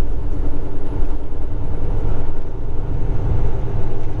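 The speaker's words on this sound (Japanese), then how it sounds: "ちょうど橋を渡ってる時に目の前に貨物列車が横切るぞ" A freight train crosses in front of a long-haul truck on a bridge over the Columbia River, a loud, continuous low rumble and rattle of rail cars blended with the heavy drone of the truck.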